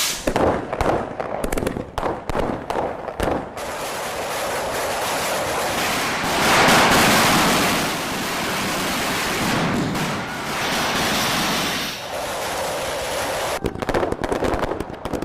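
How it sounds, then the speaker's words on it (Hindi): Fireworks and firecrackers go off during Delhi celebrations, first a rapid crackling burst, then a long roaring wash of explosions with swells, and finally another dense run of sharp pops. "आसमान से चमकती आतिशबाजी देखने में अच्छी जरूर लग सकती है"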